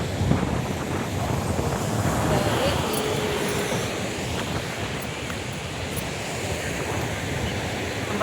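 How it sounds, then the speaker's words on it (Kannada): Surf washes steadily onto Kapu beach in Udupi, a continuous broadband roar of breaking waves with wind buffeting the microphone throughout and no clear pauses. "ನೋಡಿ ಬೀಚ್ ಯಾವ ಥರ ಇದೆ ನೋಡಿ"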